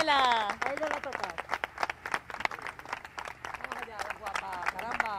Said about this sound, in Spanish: Pues ese aplauso para Daniela.